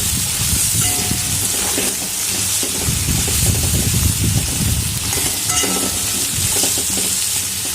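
Bitter gourd pieces fry loudly in hot spiced oil, giving a dense, steady crackling sizzle that runs unbroken and close throughout.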